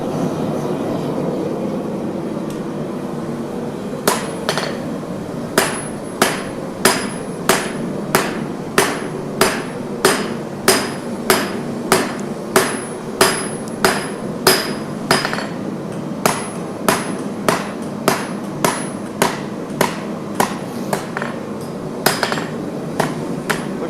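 Hammer forging a hidden-tang knife blade, a long run of sharp metallic strikes at a steady rhythm over a constant background roar, close and loud.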